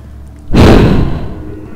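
A heavy door slams shut with a single loud thud and lingering boom in the horror game Amnesia: The Dark Descent, rising sharply out of quiet ambience.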